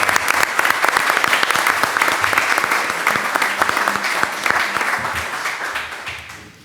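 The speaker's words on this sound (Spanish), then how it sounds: "Un aplauso para todos otra vez." A conference audience applauds at the closing session, brisk, dense clapping at close range that holds steady for several seconds and then fades out.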